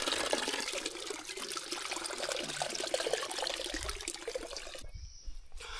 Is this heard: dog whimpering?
no